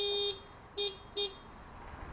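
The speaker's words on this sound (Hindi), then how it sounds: "देखिए गाड़ी का अलार्म ऑन हो गया है सारे ब्लिंकर्स ऑन हो गए हैं" A 2021 Hyundai Creta's anti-theft alarm sounds in three short electronic bursts, a long one followed by two brief chirps, fairly faint against a quiet background.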